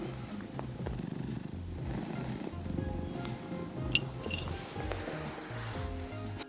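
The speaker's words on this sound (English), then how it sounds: "The last thing I need right now is a cat on the darn table." A cat purrs close by in a steady, rhythmic rumble of repeated breaths, with a few faint clicks and small handling noises and no talking.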